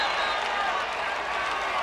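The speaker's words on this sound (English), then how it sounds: "The crowd go wild." A rugby Test crowd in South Africa during the 1974 British Lions tour roaring after a Springbok try, a dense, continuous wash of cheering and applause with a commentator talking over it.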